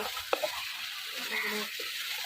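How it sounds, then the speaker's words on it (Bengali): Goat meat frying in a pan, giving a steady soft sizzle throughout with a couple of brief clinks or stirring knocks near the start. "ভালো করে ভেজে নিব"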